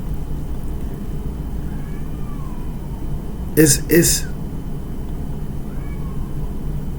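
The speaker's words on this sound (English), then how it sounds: "I think this cat out here begging for some food" A stray cat outside meows twice in quick succession, begging for food. The meows are short and fairly close over a quiet background hum, with a brief spoken word from a man nearby.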